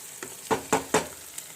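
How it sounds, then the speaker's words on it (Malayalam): Beaten eggs added to a hot pan with spinach for a Kerala-style egg and spinach thoran, giving a few short sizzling bursts and stirring scrapes spaced about a quarter second apart, close and moderately loud with no talking. "ഇതിലേക്ക് മുട്ട 3 മുട്ട അടിച്ച് വെച്ചിരുന്നത് അങ്ങ് ചേർത്ത്"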